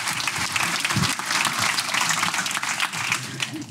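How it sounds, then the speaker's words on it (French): Audience applause at a product showcase event, steady dense clapping from a crowd filling the whole stretch without letup, loud and close, with no voices over it. "On applaudit Quentin Ginou, s'il vous plaît."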